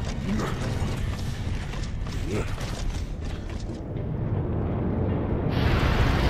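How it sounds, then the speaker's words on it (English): Grindlifts rise from the ground in the video game Gears of War 2, making a loud, continuous mechanical grinding and creaking rumble with ratcheting clanks, and the noise swells near the end. "More grind lifts coming in!"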